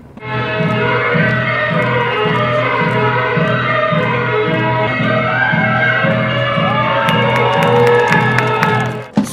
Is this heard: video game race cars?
no